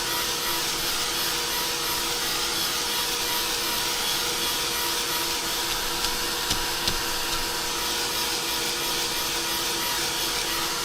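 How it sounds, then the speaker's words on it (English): A heat gun blows hot air over watercolor paint on a scrap of paper, a steady, close, loud roar with a thin whine that runs continuously without a break. "Technically, I think with watercolor, you're not supposed to use a heat gun."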